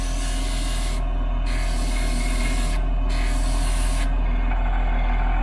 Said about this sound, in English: I'm just going to use my variable speed burnisher that has a sander on one end.